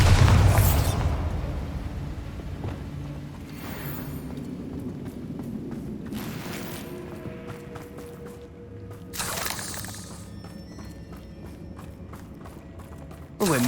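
A Bombarda explosion spell goes off in a goblin mine battle in Hogwarts Legacy, opening with a loud low boom that rumbles away, followed by lighter bursts and impacts amid ongoing combat noise.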